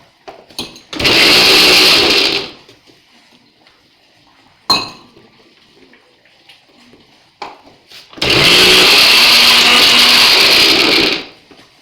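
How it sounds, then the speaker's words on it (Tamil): An electric mixer grinder grinds fresh curry leaves in two loud bursts, each a couple of seconds long. Between the bursts come quiet pauses with small clinks and handling knocks. "நம்ம கருவேப்பிலையே மிக்சியில் அப்படியே நிற்கிது அது லைட்டாக ஒரு அரையை அரைச்சிடுவோம்"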